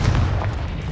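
A Confringo explosive spell blast from Hogwarts Legacy, a single loud, deep boom with a heavy low rumble that holds for about a second and stays close.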